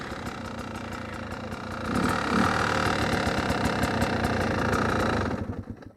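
A two-stroke dirt bike engine idles with a fast, even, rattling pulse, close and loud, rising slightly in intensity around two seconds and then cutting off abruptly near the end.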